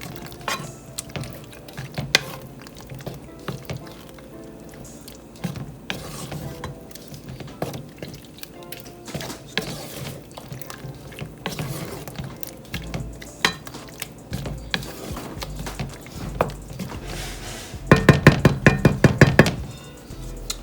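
Vegan rosa pasta is stirred into its sauce in a pot, with a utensil knocking and scraping against the sides under soft wet squelches, ending in a quick burst of rapid, louder clacks.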